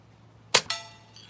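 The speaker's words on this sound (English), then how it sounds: "Even with the barrel tilted up, this just isn't shooting as powerfully." A Daisy Model 27 BB gun fired once with its barrel tilted up, giving a sharp metallic snap closely followed by a ringing clang, loud and near, with a faint trailing ping afterward and no talk.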